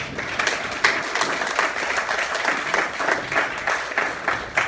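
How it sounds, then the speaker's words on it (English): Applause from an audience after a councillor is introduced, a steady dense patter of many hands clapping that holds fairly evenly through the whole stretch with slight swells. "Can we please give you another hand clap?"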